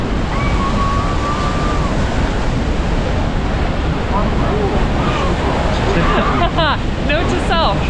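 Strong wind and roaring spray at Niagara Falls aboard the Maid of the Mist boat, a loud, constant rushing wash that buffets the microphone throughout, with a faint whistle early and muffled voices near the end.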